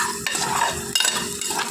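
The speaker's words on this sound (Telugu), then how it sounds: "తాలింపు వేగిందండి" Tempering spices sizzling in a pan for a gongura dish, with quick close stirring and scraping strokes over a steady fry, no voices.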